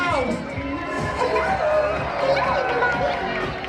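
Crowd on a Disney cruise ship at a pirate night deck show cheering and whooping for Minnie Mouse, a steady dense wall of voices and shouts sustained throughout.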